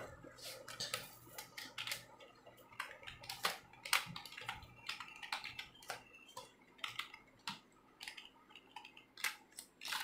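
Rapid, irregular clicking of keys on a computer keyboard, close and fairly quiet, with bursts of taps and short pauses and no talking.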